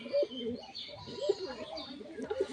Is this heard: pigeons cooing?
yes